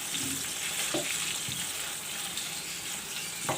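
A chicken mixture with crushed chilli and salt fries in a pan, giving a steady hiss with a few soft scrapes and clinks near the start and end, close and moderately loud with no talking.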